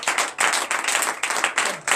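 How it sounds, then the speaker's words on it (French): A congregation at a morning prayer gathering in Benin claps in loud, rhythmic bursts, with repeated pulses and brief dips, close and energetic. "Donnez de vive acclamation."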